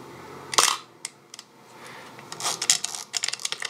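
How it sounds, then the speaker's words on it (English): A medium format camera's focal plane shutter fires with one loud, sharp snap, followed by a few lighter clicks and a burst of rapid mechanical clatter from winding or handling, close up with no voices. "Let's demonstrate that on a medium format camera with a focal plane shutter, and you hear what I mean"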